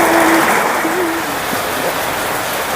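Steady heavy rain pours down in a village outdoors, a loud, even wash of noise with a brief low tonal call cutting through near the start.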